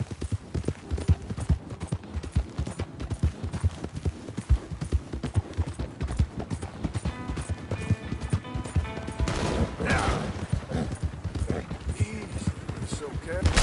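Horse hooves clip-clop steadily through a Red Dead Redemption 2 ride, a dense rhythmic patter of hoofbeats carrying throughout, with voices talking over it and a brief burst of louder clatter near the end.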